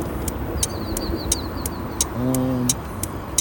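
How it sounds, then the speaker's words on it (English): Pigeons on a road, with a brief low cooing call and faint higher chirps over steady traffic or wind noise and a regular ticking click. "what the hell are these birds doing?"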